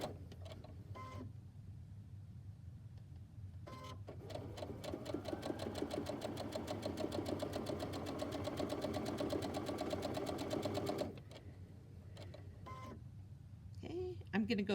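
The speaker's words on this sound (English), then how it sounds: "I did not cut, and I'm just going to continue sewing." A sewing machine chain piecing fabric patches, stitching in a rapid, even run for about seven seconds between short bursts and pauses, close and clear, with a quiet voice talking in the gaps.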